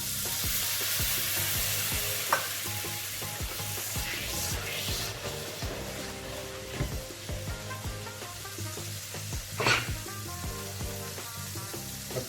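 Butter and lemon juice sizzle in a hot pan just after fish has been removed, a steady close crackling hiss throughout with a few brief scraping stirs and no talking.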